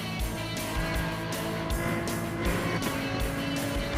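A car driven hard at about 100 mph around Laguna Seca with traction control off: loud engine roar from inside, with regular surges and dips as the revs rise and fall through the corners.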